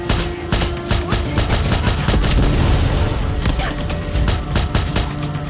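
Rapid bursts of gunfire in Far Cry 6 crack loud and close in dense volleys, with mechanical clatter and impacts mixed in and only brief gaps between the shots.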